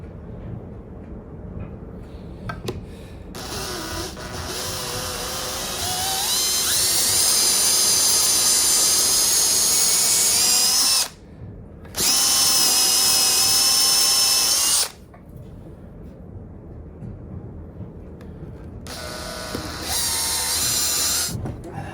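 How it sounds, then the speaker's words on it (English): A power drill bores loudly with a large bit into a tenon on a 1920s mahogany table, grinding in long sustained bursts separated by brief pauses, close up and with no talking. "we're going to do a pretty big drill bit here"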